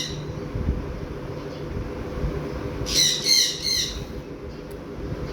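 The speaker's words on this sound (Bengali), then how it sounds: "একটা পাখি ডাকছে তখন থেকে" A bird gives a short series of harsh squawking calls, three or four quick notes clustered together, moderately near and clear above a quiet indoor background.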